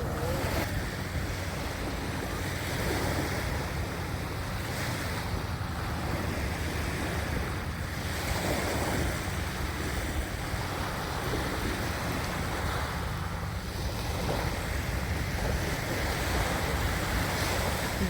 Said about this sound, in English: It's an ocean sound.